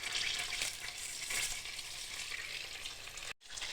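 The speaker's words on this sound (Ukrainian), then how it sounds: "Беремо, розтаплюємо вершкове масло." Butter melts with pressed garlic and rosemary in a pan, a steady close hissing sizzle with soft bubbling swells, briefly cut to silence near the end before resuming.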